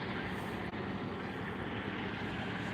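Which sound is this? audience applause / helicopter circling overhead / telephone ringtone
helicopter circling overhead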